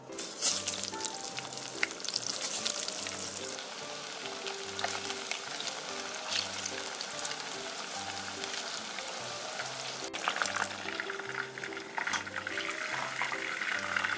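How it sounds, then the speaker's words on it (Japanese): Fish shallow-frying in a little oil crackles and hisses continuously and fairly loudly up close, with occasional sharper pops and a faint tonal background running underneath. "今日は少量なんで油少なめにしときましょうね。 揚げ焼きみたいな感じでいいでしょ。"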